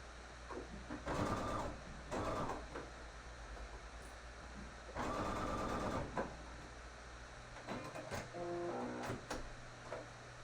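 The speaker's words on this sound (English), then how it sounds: "now I'm going to stitch that in place to keep it in place" A sewing machine stitches layers of a 3D face mask in place, running in several short whirring bursts of one to two seconds separated by pauses, over a steady low hum in a quiet room.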